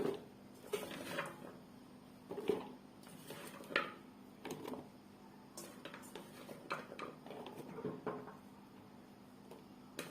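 Green mango pieces dropping one after another into a bottle: faint, irregular clicks and light knocks spread over several seconds against a quiet background.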